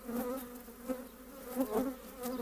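Honey bees buzzing around open beehive frames during colony work: a steady, dense, close drone that swells slightly in places, with no speech over it.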